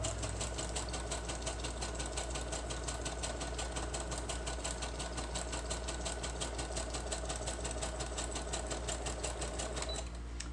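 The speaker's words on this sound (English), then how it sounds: "I'm going to sew the other side together. Same thing, just zigzag from the top to the bottom." A sewing machine running a continuous zigzag stitch down the sides of a fabric sack pocket, a steady fast mechanical chatter with a low motor hum, close and unbroken, stopping at the very end.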